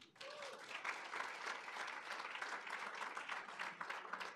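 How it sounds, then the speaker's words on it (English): Steady applause from a sizable crowd at an honorary degree dinner fills the whole stretch, dense and even, with no voices standing out. "Give them a round of applause."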